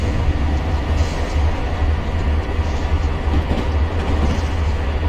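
A freight train in Train Simulator 2022 on the Arizona Divide route rumbles along steadily, with low, heavy engine drone and rolling wagon noise throughout and no voices.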